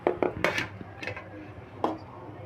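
Cooked rice for chicken biryani being scooped into a pot, with a few sharp clinks and scrapes of a metal utensil against cookware, spaced irregularly and close by.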